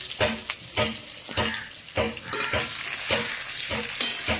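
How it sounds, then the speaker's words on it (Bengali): Chopped onion sizzles in hot oil with cumin seeds and bay leaf, a loud continuous frying hiss broken by repeated scraping stirs of a spoon in the pan. "এবার আমি পেঁয়াজটা দিয়ে দিচ্ছি। পেঁয়াজ কুচি"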